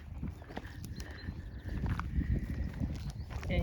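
Horses walking on a road through German countryside, hooves giving a few scattered clops under soft ambient noise, fairly faint and moderately distant, with quiet voices in the background.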